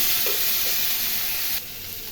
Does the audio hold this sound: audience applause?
no